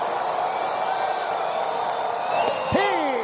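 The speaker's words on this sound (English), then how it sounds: "Listen to the crowd in St. Louis." Loud baseball crowd in a St. Louis stadium during a Brewers–Cardinals game, a steady roar of cheering and whooping that swells near the end with a sharp whistle and a rising yell on top.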